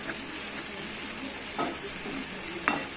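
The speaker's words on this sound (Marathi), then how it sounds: "आता त्यात आपण लसूण टाकून घेऊ. त्याला चांगलं परतून घेऊ." Garlic frying in a pan gives a continuous close sizzle while being stirred, with a couple of brief scraping stir sounds standing out over the bubbling hiss.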